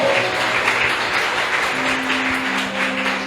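A large church service congregation applauds steadily, a dense wash of clapping that holds evenly throughout, with faint tones sustained underneath.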